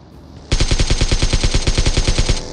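Automatic rifle fire from an AKM and an M4 in the mobile game PUBG Mobile, a loud rapid burst of about twenty evenly spaced shots running for two seconds after a brief quiet start.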